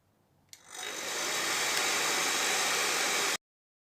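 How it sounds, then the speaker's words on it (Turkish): A hair dryer switches on with a click and blows steadily on low heat against a yellowed PVC window frame, a loud, even airy roar that holds for about three seconds before cutting off abruptly. "Sıcak hava üfleyeceğim."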